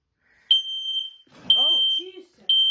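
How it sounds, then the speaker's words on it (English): An X-Sense smoke alarm under test sounds three loud, piercing beeps, about one second apart. A voice speaks briefly in the gaps between them. "Der Alarm ertönt laut."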